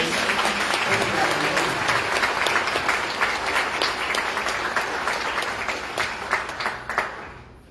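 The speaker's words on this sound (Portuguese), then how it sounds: "Uma salva de palmas para a Sabrina." A congregation claps for Sabrina after she is thanked. The full, lively applause starts loud and steady, then thins into a few scattered claps before fading out.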